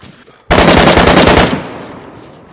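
Loud automatic gunfire in the video game DayZ, a rapid burst of about ten close shots lasting roughly a second, then a fading echo.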